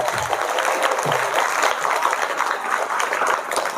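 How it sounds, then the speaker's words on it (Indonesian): An audience at a Nahdlatul Ulama anniversary gathering applauds steadily in a dense, even wash of clapping with no voices heard. "Tepuk tangan, tepuk tangan."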